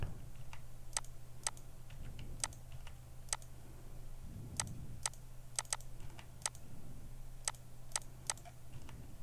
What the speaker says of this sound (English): So I will start typing my heading here.